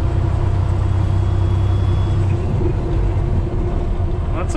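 An old truck engine runs with a loud, steady low rumble heard from inside the cab, continuous and droning throughout.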